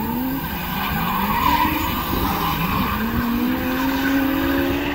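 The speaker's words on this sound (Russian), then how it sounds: "тут рядом на Змеинке народ катается на тачках," Cars drifting nearby on a Vladivostok road produce a sustained tire squeal, with pitch sliding up and down as the skids continue under engine noise, heard from some distance with no talking.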